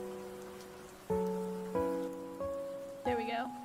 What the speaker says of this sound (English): Let's do a, a relaxing Animal Crossing with rain sounds.